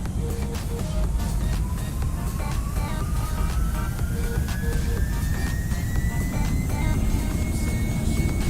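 Boeing 747-400 jet engines spooling up to go-around thrust in a flight simulator, a steady loud roar with a slowly rising whine across the whole span, alone without talk.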